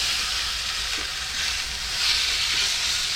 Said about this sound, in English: So you want to hear that nice sizzling.